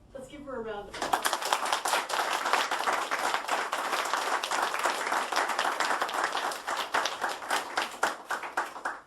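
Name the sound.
audience applause at board meeting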